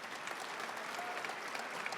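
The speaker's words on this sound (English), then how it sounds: "deserving of a full round of applause" Steady applause from a crowd at a spring graduation ceremony for a graduating counseling cohort, dense even clapping filling the room throughout without a break.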